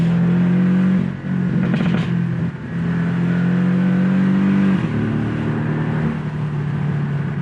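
A Porsche 718 Boxster S engine droning steadily, dipping briefly as it downshifts, then pulling hard again as it accelerates through tight corners, close and continuous with no talking.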